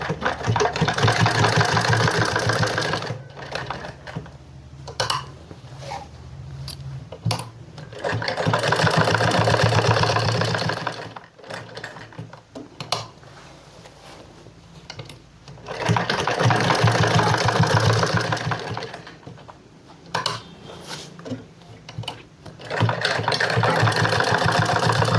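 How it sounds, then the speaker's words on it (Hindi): A sewing machine stitches women's cord-set trouser fabric in three long, loud, even runs, separated by short quieter pauses filled with handling and fabric rustle. "तो सबसे पहले इसको यहाँ पे रखकर यहाँ पर एक सिलाई लगा लेते हैं"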